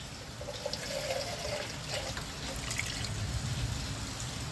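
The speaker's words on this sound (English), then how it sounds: "I'm going to rinse the tins out using chicken stock." Chicken stock pours and trickles steadily for several seconds as it rinses out tins into a goulash, a soft continuous splashing with faint drips, close by and with no talking.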